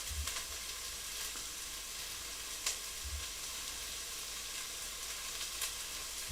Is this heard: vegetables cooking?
yes